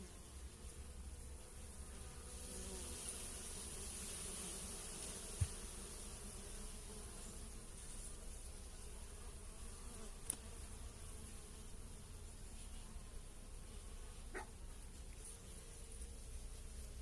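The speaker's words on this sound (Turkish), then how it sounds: "Evet arı uyarı veriyor burada." Bees at a hive in February, buzzing steadily in warning at close range with a continuous drone, a few faint clicks and knocks, and no talking.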